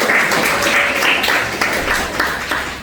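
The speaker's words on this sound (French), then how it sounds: "applaudissez" Studio audience on a French game show breaks into brisk applause after a correct answer, a close, steady clatter of many hands lasting a few seconds.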